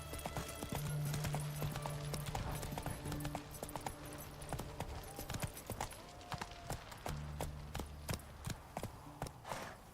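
Geralt's horse Roach gallops in The Witcher 3, hooves clip-clopping in a fast, steady rhythm under game music and ambient effects, with a brief voice cue.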